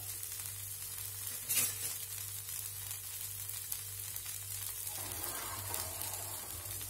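Wheat dosa batter hits a hot griddle with a soft, steady sizzle up close, and the frying swells slightly toward the end.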